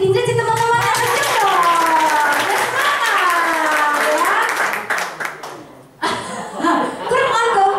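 Audience clapping at a sharing session, rhythmic applause mixed with voices and laughter, briefly dropping away before resuming loudly.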